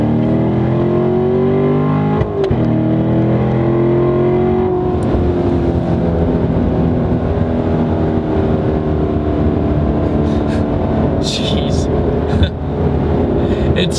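A Corvette C7 Stingray sports car engine drones steadily at speed, its pitch shifting through gear changes, with a voice talking over it.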